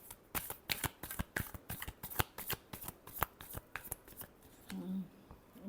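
Tarot cards shuffled by hand, heard as a quick, close run of crisp riffling clicks and flicks, soft overall and continuing for several seconds.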